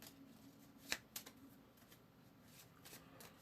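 Playing cards shuffled by hand during a solo Napoleonic board game, with two crisp riffle bursts near the start followed by softer, faint card rustles over a low room hum.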